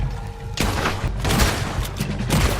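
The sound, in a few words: gunfire in video game Red Dead Redemption 2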